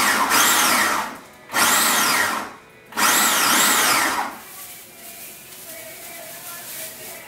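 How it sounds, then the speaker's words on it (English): Red and yellow bell peppers being ground in a food processor, with three loud whirring bursts separated by brief pauses, then the motor stops and only faint background sound remains. "I'm basically just going to grind them all up here in this food processor"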